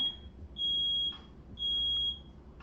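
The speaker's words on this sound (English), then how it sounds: "It's my smoke alarm." A smoke alarm emits two high-pitched electronic beeps, each about half a second long, spaced about a second apart over a quiet room hum.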